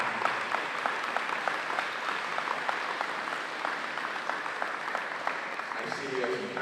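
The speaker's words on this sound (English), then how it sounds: "Let's give them a round of applause for the election department." An audience at a Boston election expo applauds the election department with steady, dense clapping that holds for several seconds before fading, while a voice begins talking near the end.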